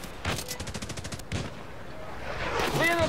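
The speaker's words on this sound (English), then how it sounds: "They woke up their mortars." Enemy mortars firing in the video game Hired Ops: a muffled rapid burst of reports, then a single heavy thump and a swelling rumble, mid-distance over a constant game background.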